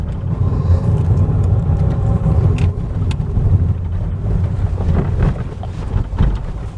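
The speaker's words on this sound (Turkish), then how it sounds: "Şöyle camı da kapatalım. Rüzgar sesini almasın. Motor sesini duyalım." A Ford Fusion 1.6 petrol engine drones steadily from inside the closed cabin while the car is driven, a continuous low rumble with faint road and body noise.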